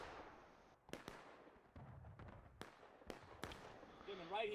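Independent-fire musket volley in a multiplayer regimental battle game: scattered sharp shots and cracks at irregular intervals, some near and loud, others fainter, with players talking over them.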